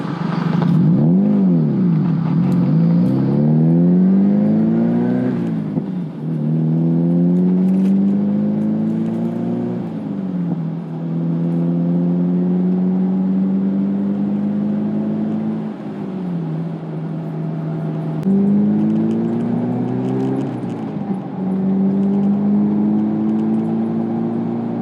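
A 2007 Mazda MX-5 Miata engine revs up through the gears, each pitch climbing then dropping at a shift, several times in a row, close and loud.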